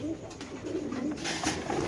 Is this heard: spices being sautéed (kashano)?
no